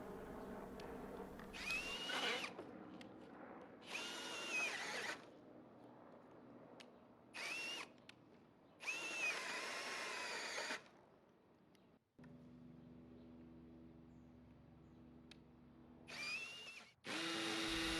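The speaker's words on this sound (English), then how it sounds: "as the Ryobi should be able to finish this 2 9/16 inch hole without any problems." A Ryobi 18V brushless cordless hammer drill whines in several sustained bursts with pauses between, boring a 2 9/16 inch hole, a steady motor hum underneath, close and moderately loud.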